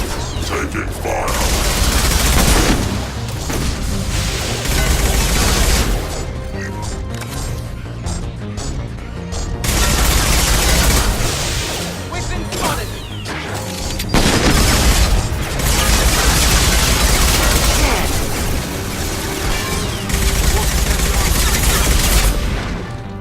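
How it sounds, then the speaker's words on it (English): Sustained gunfire in the sci-fi shooter Mass Effect 2, loud bursts of rapid shots and booming impacts rolling in waves over the whole stretch, with brief voices mixed in. "Taking fire."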